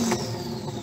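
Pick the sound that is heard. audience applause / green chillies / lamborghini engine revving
lamborghini engine revving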